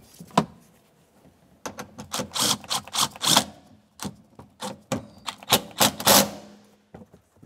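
Rear strut mounting bolt being tightened on a 2009-2010 Pontiac Vibe, heard as a series of quick, close ratcheting bursts of metallic clicks separated by short pauses.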